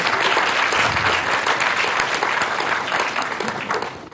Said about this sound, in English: a special round of applause for the president of the Rockefeller Foundation, Dr. Judith Rodin